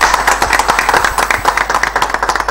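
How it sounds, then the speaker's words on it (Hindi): An audience claps at a health check-up camp event in Patparganj, Delhi, a dense, loud, continuous patter of many hands with a rhythmic pulse, close and steady throughout. "फरीद जी का तालियों से स्वागत कीजिए"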